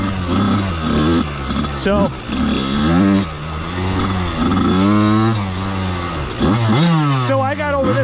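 A 1999 Kawasaki KX80 two-stroke dirt bike engine revs and accelerates, its pitch repeatedly rising and falling, loud and close under continuous talking.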